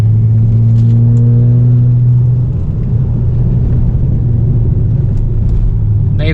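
Twin-turbo BMW engine under way while driving, a loud steady rumbling drone from inside the car, with a low tone that holds and then shifts as the revs change, continuous throughout.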